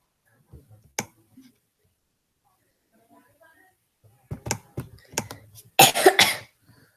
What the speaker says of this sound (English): I have a cough and I've had it for 2 weeks